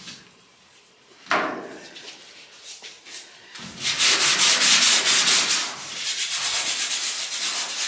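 Bondo body filler on an old car body is sanded by hand with 80 grit sandpaper, a single scrape followed by fast, rhythmic rasping strokes, close and loud.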